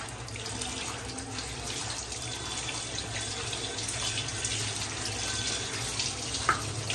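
Chopped shola kochu (taro) being rinsed in a colander under a running tap, a steady close splash of water drumming on the pieces and sink, with no talking.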